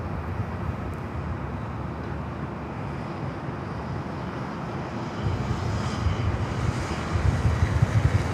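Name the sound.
Alaska Airlines Boeing 737-800 arriving at LAX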